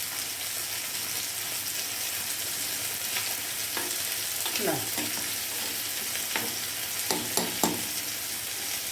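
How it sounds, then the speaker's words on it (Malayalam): A kannimeen fish curry bubbles on the stove in a steady soft sizzle, broken by a few sharp scraping and clinking sounds from a spoon or lid toward the end, with a brief spoken word. "അപ്പോൾ നന്നായിട്ട് തിളച്ച് വന്നിട്ടുണ്ട്."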